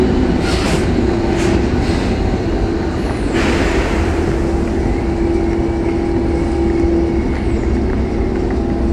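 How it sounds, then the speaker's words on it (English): An Amsterdam metro train rumbles loudly and steadily past at Weesperplein station platform, with a sustained metallic whine and clatter throughout, close by and without speech. "There's another subway train."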